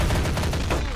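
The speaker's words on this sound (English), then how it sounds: "There's just shotgun fires going on." Shotguns blast in Garry's Mod as a rapid, overlapping volley of loud, close shots fills the whole moment without pause.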